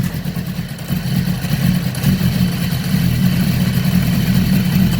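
A 2015/16 BMW S1000RR race bike, its plastics removed, starts and settles into a steady, close idle, a deep even engine rumble that holds loud and constant with no talk over it.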